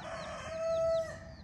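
New turkey hens let out of their pen for the first time in the morning give a few short rising calls, fairly near, over a steady background tone.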